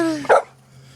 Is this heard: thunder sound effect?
no